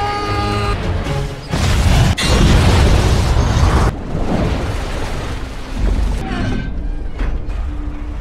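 A bomb goes off aboard a ship in a Jason Statham action film, with loud, heavy booming blasts, crashing debris and rumbling over several seconds.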